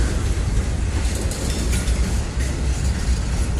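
A train rolls past on the Norfolk Southern Harrisburg Division, a steady, loud broadband rumble with a faint rhythmic clatter of wheels running continuously and close by, with no talking.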